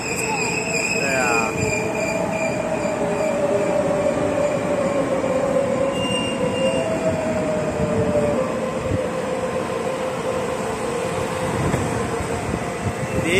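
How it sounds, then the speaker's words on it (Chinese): A blue local passenger train with painted artwork on its cars rolls past, its steady loud rumble and wheel noise filling the whole stretch, with a brief squeal early on and a faint voice now and then. "哇，火车来了，火车嘟嘟嘟来了。"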